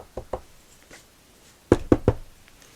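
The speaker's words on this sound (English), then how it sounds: "I'm knocking on wood right now." Knuckles rap on wood in two quick knocks, then a brief quiet stretch before a louder group of three close, sharp raps, near and with no voice over them.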